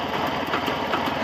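A Jawa 634 motorcycle engine runs steadily at a fast idle, a continuous close mechanical drone with a busy, rattling texture and no pauses.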